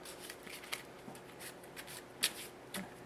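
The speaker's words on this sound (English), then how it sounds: "the parts deck is then shuffled" A parts card deck for the Inventors' League board game is shuffled by hand, giving soft, quick repeated card flicks and slides close by with a low background hiss.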